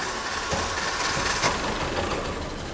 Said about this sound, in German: kann man mal hören, was, was, was der Motor Komisches macht